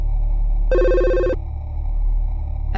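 A phone rings once in a visual novel game, a single bright electronic trill lasting under a second over a steady low hum, loud and close with no talk.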